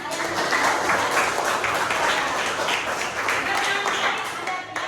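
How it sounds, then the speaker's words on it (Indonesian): A class of children claps hands together in a classroom during a coding lesson, a fairly loud, busy patter of many small hands with rhythmic pulses, tapering slightly toward the close. "yuk tepuk tangan semuanya."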